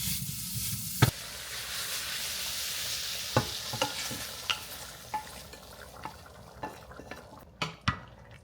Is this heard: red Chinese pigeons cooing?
no